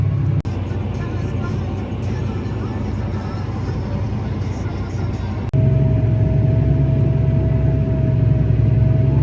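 A tractor creeping at about 3 km/h while preparing a field, giving a steady low engine rumble close by that grows louder and fuller after about five and a half seconds, with faint wind-like noise and no talk.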